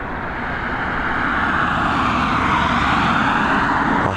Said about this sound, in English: It looks like this Delta is taxiing back to stand.